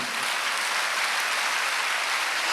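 A church congregation claps at a Wednesday worship service, a dense, steady wash of applause that holds evenly throughout, close and fairly loud, with no voices rising above it.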